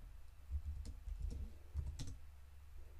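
Fingers tap out commands on a computer keyboard at a terminal, producing a quiet, close, uneven run of soft keystrokes with brief pauses.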